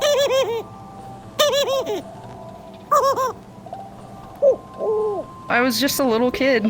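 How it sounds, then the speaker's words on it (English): Pet dove cooing indoors in repeated soft hooting bursts, close by, with a person talking between and over the calls. "You probably can hear my dove in the background"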